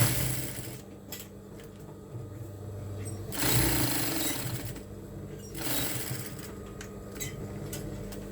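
A sewing machine stitching a cap, its rapid mechanical whir running in two louder bursts separated by quieter pauses, close by and steady.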